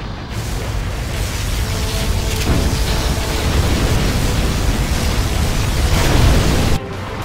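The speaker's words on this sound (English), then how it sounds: "Particle cannon activated." A particle cannon from Command & Conquer: Generals Zero Hour fires and explodes, a loud, sustained roaring blast of noise that swells gradually and cuts off abruptly near the end.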